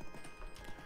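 Horse hooves clip-clopping in the arcade game Knights of the Round, a short burst of steady rhythmic beats mixed with game music, with no talk over it.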